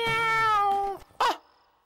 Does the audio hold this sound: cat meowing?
yes